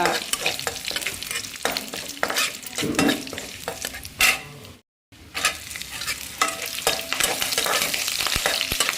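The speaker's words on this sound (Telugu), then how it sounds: "ఈ పచ్చిమిరకాయలు కొంచెం వేగిని అనిపిస్తున్నాక" Green chilies, dried red chilies and curry leaves fry in hot oil for a chicken fry, crackling and sizzling steadily while a spoon stirs and scrapes the pan in repeated strokes; a brief gap breaks the sound midway.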